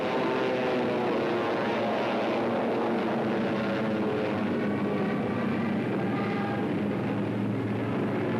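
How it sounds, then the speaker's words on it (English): German WWII fighter aircraft flying overhead, a continuous loud droning propeller-engine roar that holds steady and swells slightly as the planes pass, with no voices. "German fighters waited overhead for the defending planes of the Royal Air Force"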